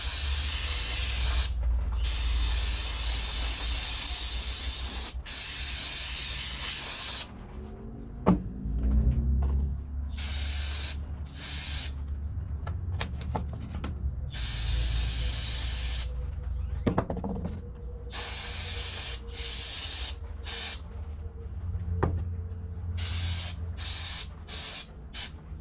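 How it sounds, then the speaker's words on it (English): Carb cleaner sprayed from an aerosol can onto brake parts, close hissing bursts, a long spray followed by a string of shorter blasts with brief gaps and some clinking of parts between. "I'm gonna take some carb cleaner."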